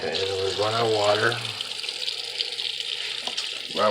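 Tap water running steadily into a kitchen sink while preparing microwave lasagna, a continuous bright hiss heard close, with a person talking over the start and end of the flow.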